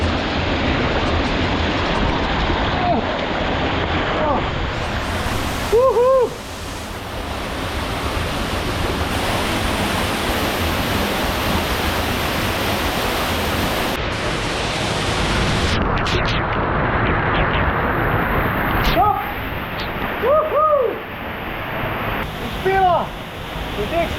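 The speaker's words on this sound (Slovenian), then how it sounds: "Čudoviti slapovi Poličanke!" Loud, steady roar of the Poličanka waterfalls in the Idrijca valley, a dense rushing wash of falling water that fills the whole clip, with a few brief chirps or voice-like tones rising above it.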